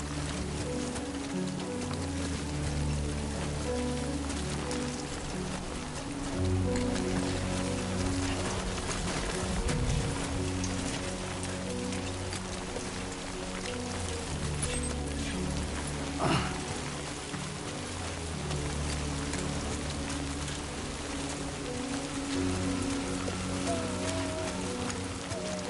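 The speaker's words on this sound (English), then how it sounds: "Rain. Gotta move." Rain falls in the video game Death Stranding 2 as a steady, dense patter with a low rumbling bed beneath, continuous throughout, with a brief louder knock partway through.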